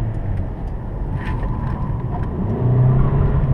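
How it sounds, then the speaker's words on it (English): A Hyundai Sonata accelerating on a track, with a steady low engine drone that climbs in pitch and grows louder near the end, heard from inside the car. "So let's do a little acceleration first"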